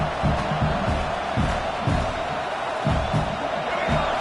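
Football stadium crowd cheering and roaring in a dense, sustained wall of noise, with rhythmic swells of chanting rising and falling throughout.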